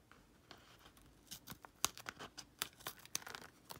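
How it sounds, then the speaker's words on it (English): Scissors snip and cut along the edge of a napkin-covered composition book, a quiet series of irregular sharp clicks and crinkly paper snips close up, with no voices. "And then I literally just come in with a pair of scissors and trim off the edge."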